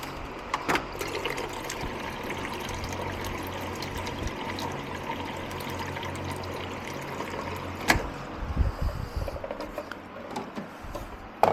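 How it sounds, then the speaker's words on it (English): Water is poured into the reservoir of a Jura F Series coffee machine, a faint steady trickle and splash that continues for several seconds with a few louder knocks and clatters later on. "Let's add some more water."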